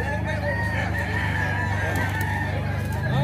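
Brown red fighting roosters at a gamecock market in Bocaue, Bulacan crow and cluck loudly and close, with several overlapping calls.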